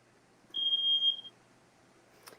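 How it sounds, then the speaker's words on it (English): A smoke alarm, set off by cheese burning in an oven, gives one loud sustained high beep in a quiet room, followed by a faint click. "Is that a fire alarm?"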